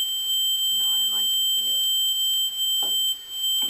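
A Mosquito anti-loitering device emitting a continuous high-pitched tone with regular pulsing beeps, loud and steady throughout, while a person speaks briefly under it.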